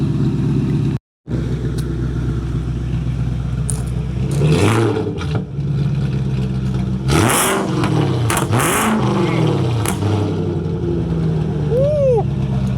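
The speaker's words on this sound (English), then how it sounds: "we can get some revs in a second for you guys once she's warm" A BMW E39 540i V8 fitted with a loud custom exhaust and X-pipe is revved in repeated bursts, rising and falling sharply over a deep, rumbling idle, loud and close, with no talk over it.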